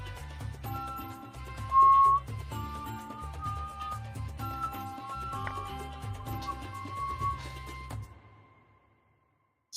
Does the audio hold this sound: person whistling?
yes